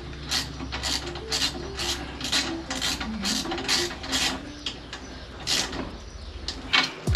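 Ratchet wrench tightening a bolt on a Triumph Tiger 900 exhaust, a loud, close, steady series of about a dozen rasping ratchet strokes in even rhythm, with no speech over the clicking.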